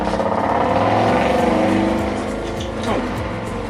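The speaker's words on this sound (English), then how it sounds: "Range Rover with a big exhaust." A Range Rover with a big aftermarket exhaust passes in the background, a steady loud engine drone that swells in the first half, then eases slightly as it moves off.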